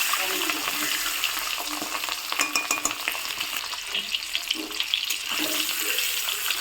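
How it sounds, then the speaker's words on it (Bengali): Duck eggs frying in oil in a pan for egg curry, a continuous close sizzle and crackle with occasional clinks and stirring sounds, no voices. "ডিমগুলো ভাজা হয়নি, আর একটু ভাজা হবে।"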